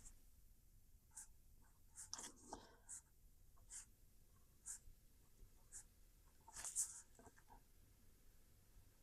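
A fountain pen writing on 28-pound printer paper, soft scratchy strokes and taps in irregular bursts, close and quiet over faint background hiss.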